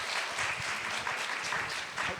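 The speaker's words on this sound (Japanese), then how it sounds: "皆さん拍手をしていただければなと思います。" An audience at the closing session of an international culture conference in Japan gives warm applause: many hands clapping in a dense, steady wash, moderately close, without any speech over it.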